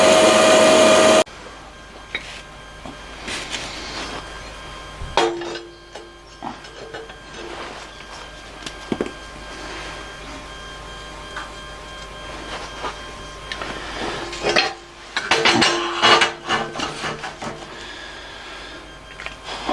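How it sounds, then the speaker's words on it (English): A new bandsaw cuts metal pieces for a buggy build in a workshop: a steady, close motor whine runs throughout, broken by scattered clanks and a louder grinding stretch near the end, with no talking. "with this new bandsaw, you just turn the whole saw to cut an angle"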